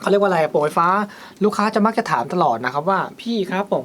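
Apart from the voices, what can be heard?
None of the usual background noises is heard.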